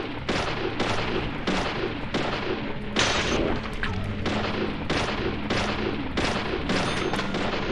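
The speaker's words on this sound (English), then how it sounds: "Salty Sally, I'm shooting you" Repeated loud gunshots in Deadly Premonition Origins, about eight heavy blasts at roughly one-second intervals, each followed by a lingering rumble, close and unaccompanied by speech.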